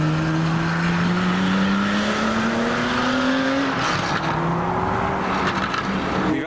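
A Porsche 911 Carrera RS drives loudly past at a car show, its engine note rising steadily in pitch as it accelerates, then dropping and climbing again, close and dominant throughout.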